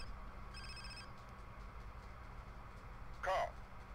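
A mobile phone ringing during play of the video game Grand Theft Auto: San Andreas, a brief electronic ring tone over a constant low engine-like rumble, followed by a short sharp chirp near the end.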